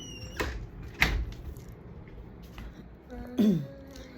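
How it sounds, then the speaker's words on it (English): A squeaky, singing door in a room is pushed shut: a sharp knock early on, then a rising creak and a solid thud near the end, fairly close and moderately loud over quiet room tone. "Let's close this door because it's singing."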